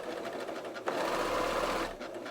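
A second-hand Pfaff Creative sewing machine runs in a steady mechanical whir for about a second after a brief start, close and moderately loud, then stops, with no talking.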